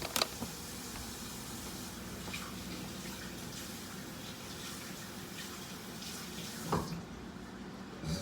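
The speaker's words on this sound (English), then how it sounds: "I'm gonna rinse my hands and my cilantro at the same time." Tap water runs steadily into a sink while hands and a bunch of cilantro are rinsed beneath it, a quiet, even wash with a few small splashes and clunks.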